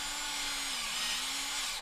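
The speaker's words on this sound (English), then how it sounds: "have an electric drill here that we'll use to drill a hole into the tree" An electric drill bores a hole into a tree trunk at about hip height, a steady close whine running without pause until it cuts off at the end.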